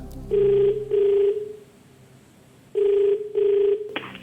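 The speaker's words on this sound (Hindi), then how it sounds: "इनको फोन लगाया जाए" An outgoing telephone ring tone sounds in two double bursts separated by a pause, a clear electronic purr close to the ear.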